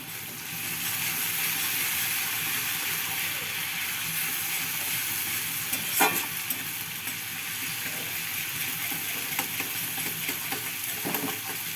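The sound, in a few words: garlic frying in a pan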